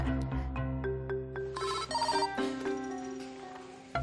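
A telephone rings with a repeating electronic ringtone melody, clear and fairly loud, playing on its own with no talking for about four seconds.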